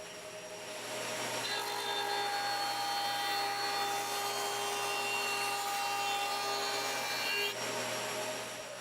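Electric planer running steadily on a wooden board held on a planer sled, a loud sustained machine whine that starts about a second in and cuts off near the end.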